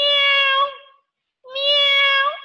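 Two drawn-out, clear meows from a cat, each about a second long and separated by a short silence; the voice may be a person imitating the animal rather than a real cat.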